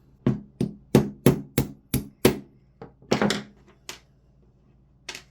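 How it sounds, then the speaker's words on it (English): Pin driven out of a Tokyo Marui MWS MK18 airsoft rifle with a series of sharp tapping blows, about seven evenly spaced close knocks followed by a few lighter, scattered taps. "I'm going to pop the pin out as well."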